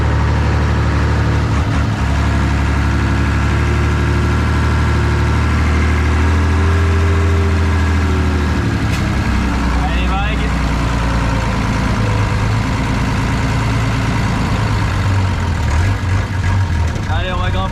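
Two monster trucks churn across rough terrain, their heavy engines droning loudly throughout with a rising rev midway, while voices talk over the noise.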